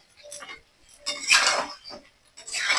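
Vegetable cauliflower and potato curry is stirred in a pan, the spoon clinking and scraping against the metal in three or four short bursts with quiet gaps between.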